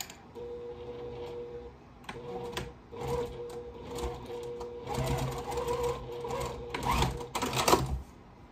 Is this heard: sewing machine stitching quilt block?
yes